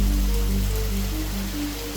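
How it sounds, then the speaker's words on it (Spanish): Hail falls on the ground in Valle de Guerra, Tenerife, as a dense, steady patter that sounds close and loud, with a low rumble underneath and no voices. "así ha sonado el granizo esta mañana en Teide"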